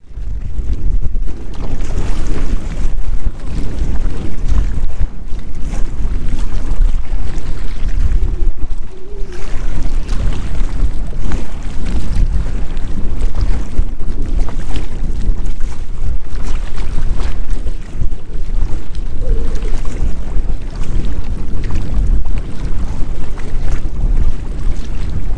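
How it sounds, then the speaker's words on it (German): Strong wind roars steadily into the microphone while kayaking on the Rhine, a loud, unbroken rumbling gust noise with faint water movement beneath it and no talking. "Sehr windig momentan."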